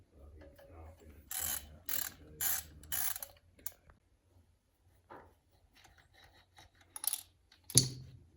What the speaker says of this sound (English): Next, we'll go ahead and pull off the head bolts.